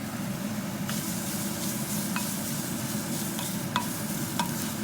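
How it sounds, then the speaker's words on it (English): Onion frying over medium heat in a hot pot for chili, giving a continuous close sizzle with a few sharp scraping stirs of a utensil against the pot. "This pot that I'm going to cook with is hot. I'm cooking in medium heat. I'm putting in the onion."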